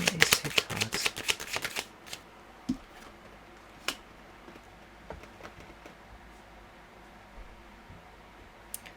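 Tarot cards shuffled in a quick, crisp riffling burst for about two seconds, followed by a few soft, scattered taps and clicks from the deck in a quiet room.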